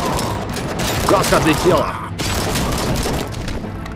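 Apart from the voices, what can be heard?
grenade explosion and gunfire in the video game RoboCop: Rogue City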